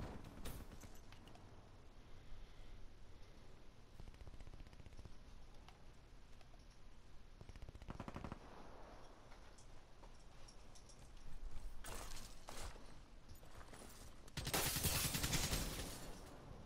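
Gunfire in Black Ops 3 multiplayer: dense, continuous bursts of shots and impacts throughout, with louder, harsher volleys near the end.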